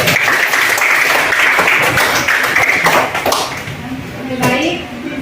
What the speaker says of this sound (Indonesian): Ya, tepuk tangan untuk hari ini dulu.